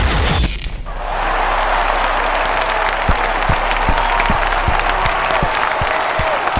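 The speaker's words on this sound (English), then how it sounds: "What the fuck are you clapping for?" After a brief loud burst of noise at the start, an audience claps steadily in a dense, close crowd applause with scattered sharp individual claps, continuing evenly to the end.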